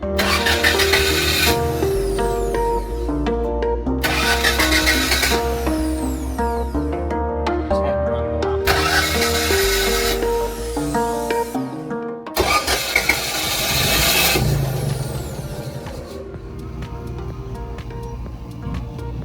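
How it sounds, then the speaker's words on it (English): A boat's onboard generator engine cranks in repeated bursts with brief pauses, then catches and runs, loud and continuous with no talking. "It cranked and started for, well, it took a minute for the fuel to get going"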